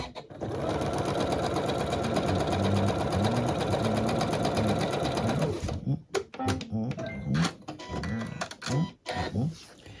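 A sewing machine stitches across one end of fabric for a festive table runner, a loud, fast, even whirring rattle that runs for several seconds, then breaks into short stop-start bursts with brief pauses.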